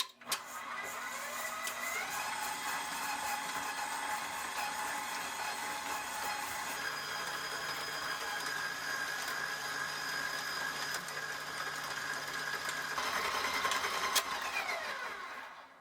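A KitchenAid 5.5-quart bowl-lift stand mixer running on high with the flat beater, creaming soft butter and sugar, giving a steady whirring motor drone with a whining tone throughout and no talking.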